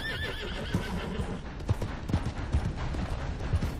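Horse in Red Dead Redemption 2 online: rhythmic clip-clopping hooves thud steadily in the foreground while a loud whinny rings out at the start, with no talking over it.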